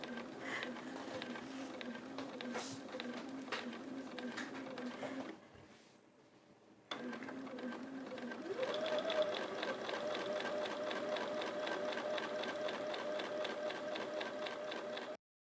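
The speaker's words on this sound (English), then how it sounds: "So have fun with that quilting, Joey" A sewing machine quilts fabric blocks, running in a steady moderately quiet whir with a short pause partway through before the stitching resumes and continues to the end.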